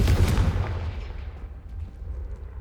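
Confringo fire spell cast in the video game Hogwarts Legacy, a loud booming blast that erupts at the start and rolls off into a lingering rumbling decay.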